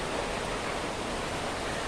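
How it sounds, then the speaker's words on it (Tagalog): Heavy rain pours down in a dense, even hiss with no breaks, loud and close throughout. "Pero pag swimming pool guys, pag lumakas lang ang ulan, ayan."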